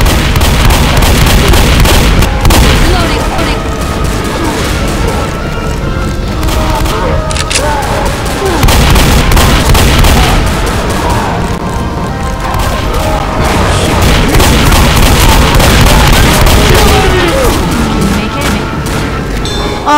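Gunfire in the video game Left 4 Dead, loud continuous volleys of shots and booming blasts filling the whole stretch, with people talking over the chaos.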